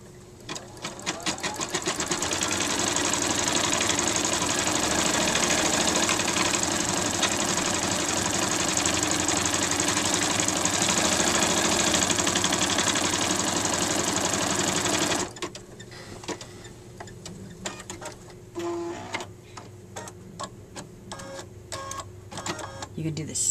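An embroidery sewing machine stitches the outline of a plush Easter egg, a loud, steady, rapid mechanical whir for about fifteen seconds, then stops. Quieter clicks and thumps follow.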